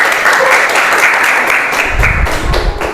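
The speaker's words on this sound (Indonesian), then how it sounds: "beri tepuk tangan buat Alvin." Students in a classroom applaud during a teaching lesson, a loud, close, continuous wash of clapping with a few heavier thumps near the end.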